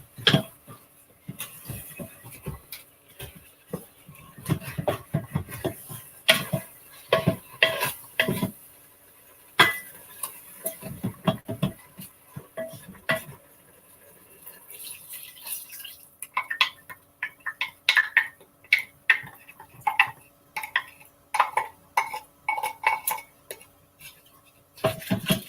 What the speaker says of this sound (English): now I'm going to do what's called deglazing the pan. That's just scraping up all those little bits from the bottom